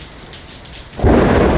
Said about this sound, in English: Boy, that scared me, man. It is really raining out there.